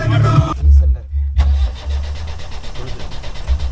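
A jeep engine rumbles on an off-road safari in Munnar, loud and close, with a brief dip and then a steady idling drone while a voice speaks over it.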